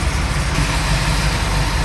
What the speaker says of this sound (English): hear how smooth this engine runs too